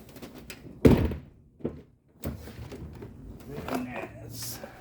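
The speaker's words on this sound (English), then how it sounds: "see if it'll open the door" The driver's door of a 2010 Chevy truck, opened with a repaired inner door handle, gives a sharp mechanical thunk of the latch releasing, followed by softer knocks and rattles, with a voice talking nearby.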